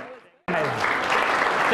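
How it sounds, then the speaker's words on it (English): Audience applause for a magician's helpers at a live business show, a dense burst of clapping that breaks out suddenly after a brief quieter voice and stays loud and steady to the end. "Ladies and gentlemen, a big round of applause for my helpers."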